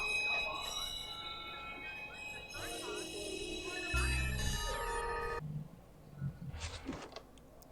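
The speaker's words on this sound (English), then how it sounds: "Southbound train arriving shortly." A train pulls into a station in the Watch Dogs video game, with ringing chime tones and a rumbling approach, and a voice is heard before it fades to quieter ambience.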